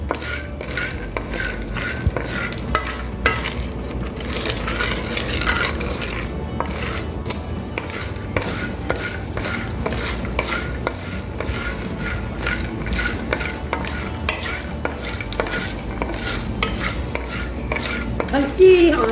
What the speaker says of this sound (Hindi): अब हमने इसको मुसलसल हिलाते रहना है